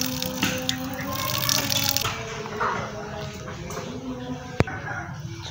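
Water drained off a container of soaked eggplant seeds, a steady splashing, trickling pour for several seconds that thins out toward the end, close by, with a faint clack near the finish.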